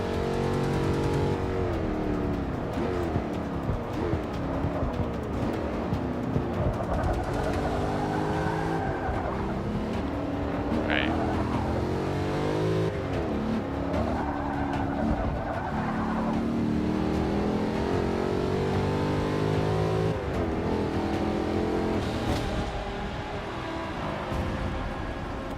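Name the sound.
car racing engines in video game Forza 6 Apex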